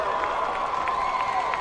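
Crowd of North Carolina Central fans cheering at a college football game against Howard, a steady distant roar of voices and applause filling the whole moment with no break.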